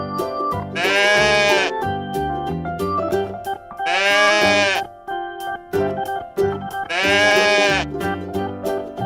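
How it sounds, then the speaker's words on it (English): Cartoon sheep bleat three times in long, wavering calls, loud and close, spaced evenly over a light musical backing. "Sheep."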